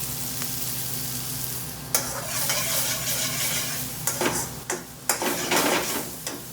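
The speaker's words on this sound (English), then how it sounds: "Already I can see the mushrooms, the onions is caramelizing, so beautiful." Mushrooms and onions sizzle in a hot pan for a mushroom pilau rice, a steady close frying hiss broken by several sharp stirring scrapes and clinks of a utensil against the pan.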